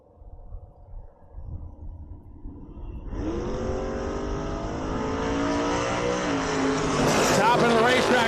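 Drag racing cars at a bracket racing event launch down the strip, with engines rising from a low rumble into a loud, climbing roar that builds steadily after a brief stretch of voice at the start.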